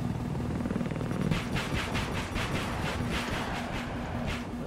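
A helicopter in Battlefield 4 holds a steady whirring drone as its rotor chop sharpens into rapid rhythmic thumps partway through, loud and close, with no talk over it.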